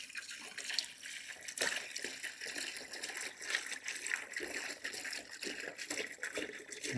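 Distilled water pours into an inverter lead acid battery during reconditioning, making an uneven gurgling, splashing trickle with small irregular bursts, heard close and fairly quiet.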